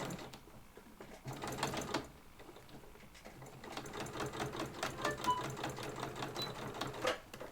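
A sewing machine stitches down the seam of a cross body bag, its fast needle chatter running in two bursts separated by a short pause, steady and close with no talking.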